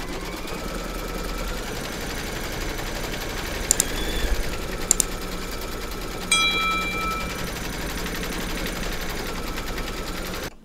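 An embroidery machine satin stitching in grey thread, a steady rapid mechanical whir and needle chatter running throughout, with a few brief sharp clicks partway through.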